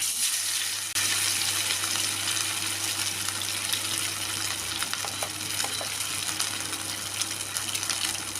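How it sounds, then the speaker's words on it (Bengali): Pieces of katla fish fry in hot oil, giving a loud, continuous crackling sizzle up close, with a low steady hum beneath and occasional sharper pops, no voices. "এখন মাছগুলো একে একে তেলের মধ্যে দিয়ে ভালোভাবে ভেজে"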